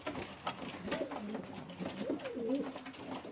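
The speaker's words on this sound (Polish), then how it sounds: "Gołębie chętnie przychodzą do picia." Ornamental pigeons coo softly in a loft, several rolling, throaty calls repeating over a quiet background, fairly close and alone without talk.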